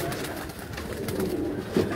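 Caged pigeons cooing softly, low murmuring coos against a noisy indoor background, with one brief sharper call near the end.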